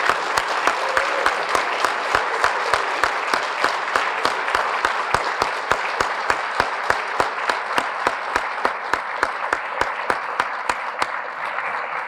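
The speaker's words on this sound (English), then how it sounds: "Let's give him a round of applause." Audience applause for the police officer of the year at a State of the City event: sustained crowd clapping with a strong, regular beat of loud claps running through it for about twelve seconds.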